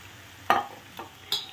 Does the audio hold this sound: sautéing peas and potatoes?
yes